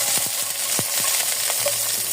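Onion and tomato sauté in a pan for pork sinigang with a dense, continuous sizzle, crackling close and loud, broken by a few scraping stirs and soft knocks. There is no talking.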